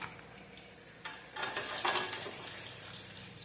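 Lentils frying in a pan, a low sizzle that swells after a second into a louder, crackling fry with a brief stir, close and steady, no voices.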